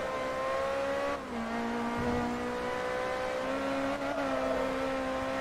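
A Ferrari F430 races in Forza Motorsport 3, its engine holding a loud, steady high drone with brief dips and rises in pitch at gear changes, alone and close throughout.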